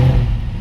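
An Audi S7 engine being started in a workshop after an exhaust fault, a loud low rumble that holds steady and close for under a second with no talk.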